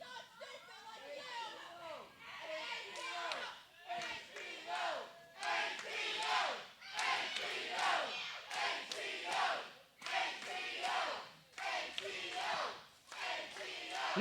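A lively crowd at an amateur wrestling show, shouting, cheering and chattering in continuous loud waves that swell and dip, with voices rising over one another throughout.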